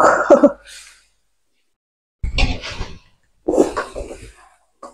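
Three short, harsh coughs close by, spaced apart by brief silences.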